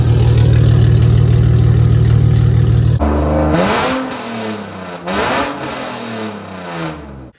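A BMW E46's stainless steel exhaust idles with a deep drone, then revs up loudly several times, each throaty rise and fall close by with no talking.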